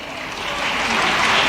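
An audience of women at a businesswomen's conference in Bhopal applauding, a dense wash of clapping that swells steadily louder over a brief moment.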